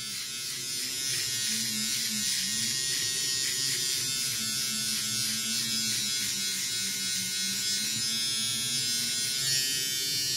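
A Gillette Styler electric trimmer buzzes continuously and close by, a harsh high whine with a wavering motor pitch, running alone without speech.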